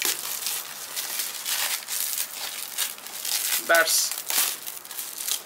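Plastic packaging of a Microsoft All-in-One Media wireless keyboard crinkles and crackles steadily in close, busy bursts as it is unpacked, with a brief spoken word partway through.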